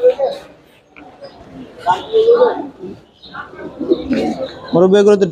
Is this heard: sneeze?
no